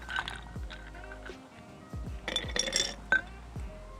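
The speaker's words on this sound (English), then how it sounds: "So grab your favorite cocktail shaker, you know, roughly half fill it with some ice." Ice cubes drop into a cocktail shaker for a whiskey drink. Several separate bright clinks and rattles come close up, spread over a few seconds in irregular bursts.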